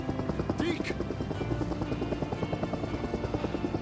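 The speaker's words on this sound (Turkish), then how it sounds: "Vallahi gönderdik helikopteri" Helicopter in the Days Gone video game, its rotor chopping in a steady rapid pulse close by, with a voice briefly over it.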